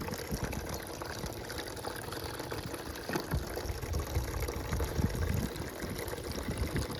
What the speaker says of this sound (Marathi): गायला पाणी पाजून झालेलं आहे.